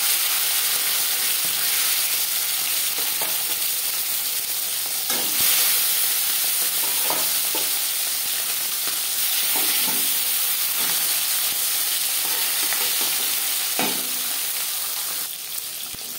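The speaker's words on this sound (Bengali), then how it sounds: "মাছ আমি হালকা করে ভেজে নিলাম।" Marinated bata fish fries in hot refined oil with a steady, close sizzling hiss, dotted with faint spits and crackles and no voices.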